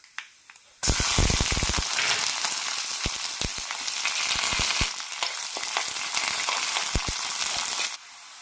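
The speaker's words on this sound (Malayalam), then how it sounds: "ഇനി ഇതിലേക്ക് കടുകും കറിവേപ്പിലയും ചെറിയുള്ളിയും വറുത്തിടാം." Mustard seeds, curry leaves and small onions hit hot oil with a sudden loud sizzle that stays steady for about seven seconds. Sharp pops and crackles break through, then the frying cuts out abruptly near the end.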